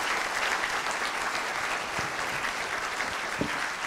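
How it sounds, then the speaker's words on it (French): Sustained applause from an audience at a corporate gathering, a dense steady wash of many hands clapping that holds evenly throughout. "je crois qu'on peut l'applaudir très fort"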